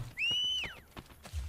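A horse in the video game Assassin's Creed Brotherhood trots with a few evenly spaced, soft hoof clops and lets out a short, high, whistling whinny near the start, all fairly quiet.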